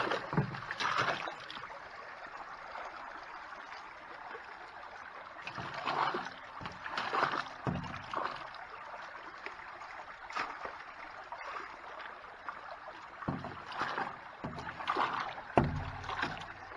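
Water sloshes and splashes in a gold pan during sluice box cleanout with a 5-gallon bucket, coming in repeated irregular bursts of swirling and dripping over a steady wet background.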